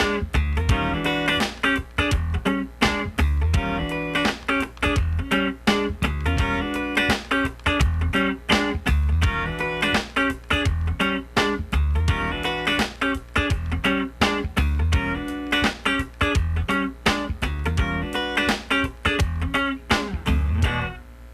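A funk rhythm guitar plays a tight, percussive part with a swung feel, crisp muted strums and choppy chords repeating in a steady groove for about twenty seconds, loud and alone.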